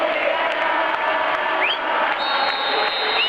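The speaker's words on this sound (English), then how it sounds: "A big roar from the crowd as the game gets underway." Steady, dense stadium crowd roar at kickoff in the football video game PES 6, a continuous loud wash of cheering with faint whistles rising over it.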